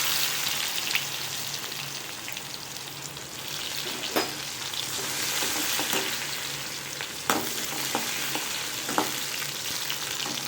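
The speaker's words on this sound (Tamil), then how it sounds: "இது பொரிஞ்சதும் கட் பண்ணி வச்சுருக்க வெங்காயம்" Chopped onions fry in oil with urad dal and cumin for a masala gravy, giving a steady, loud, close sizzle with a few scattered spoon clicks and no talking.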